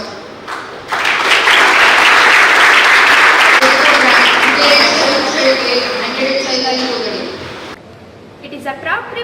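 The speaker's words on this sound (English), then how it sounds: "please give a huge hand of applause" At an academy investiture ceremony, a crowd breaks into loud, dense applause that swells quickly, holds strong for several seconds, then thins and fades away, with a voice briefly heard near the end.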